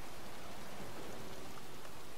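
Steady rain falling in the video game Heavy Rain, a dense even hiss of drops with no other sounds or voices.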